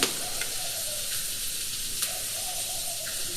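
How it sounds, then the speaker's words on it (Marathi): Tomato and onion roast in a pan over a wood-fired chulha for a drumstick curry, making a constant loud sizzling hiss with scattered crackles and pops close by. "तर आता हे छान असं मस्त मी भाजून घेते चांगली"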